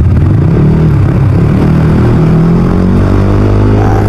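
Yamaha NMAX V2 scooter with a tuned engine and ECU program revving loudly up close, a dense steady roar with rising harmonic tones and mechanical clatter, no voices.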